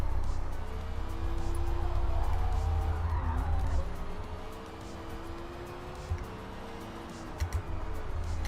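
A race car with worn tires loses front-end grip in Forza Motorsport, giving a fairly faint, drawn-out tire squeal under a low engine rumble, with a few light clicks near the end.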